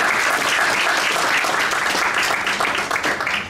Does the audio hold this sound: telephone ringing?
no